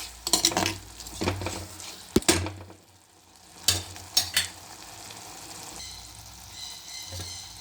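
Ingredients sauté in a pan for dried fish thokku, with a soft frying hiss broken by several sharp scrapes and clinks of a spoon stirring against the metal, fairly close.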